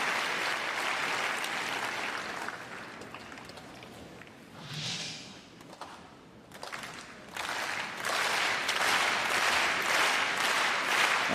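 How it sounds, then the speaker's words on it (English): A stadium crowd claps steadily at a wheelchair tennis match, sustained applause that dips and briefly quiets near the middle, then swells back to full volume. "crowds have been enthusiastic, trying to cheer both these players on"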